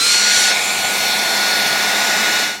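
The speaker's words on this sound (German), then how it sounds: "Und föhnen noch ein bisschen." A hair dryer thaws ice on a Tesla Model 3, blowing a steady, close, loud airy whir for a few seconds before cutting off at the end.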